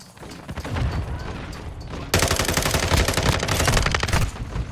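Dense, rapid gunshots from the Call of Duty video game, played online on PS5, firing in a steady stream that grows louder and harsher partway through, nearly continuous with no talk.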